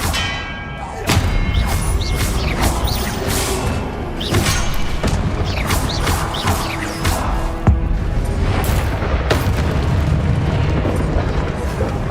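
A spell effect in the video game Hogwarts Legacy, Expelliarmus: a booming, crackling magical burst with resonant bell-like ringing, loud and sustained over several seconds with repeated sharp impacts.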